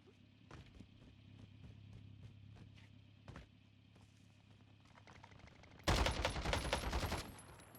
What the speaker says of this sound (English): we got shots from the enemy